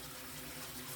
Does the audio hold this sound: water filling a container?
yes